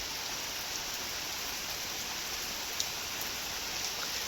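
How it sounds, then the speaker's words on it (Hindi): Rain falls steadily through a papaya tree in a rural yard, a soft, even hiss of drops without a break and with no voices. "पपीते के पेड़ में से देखो कैसे बारिश पड़ रही है,"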